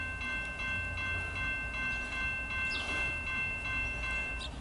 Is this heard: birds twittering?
no